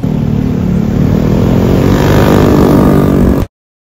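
A motorbike in Thailand rides through traffic with a loud, close, steady engine drone and a rumbling low hum, with wind roar on top. It holds at an even pitch and then cuts off abruptly into silence.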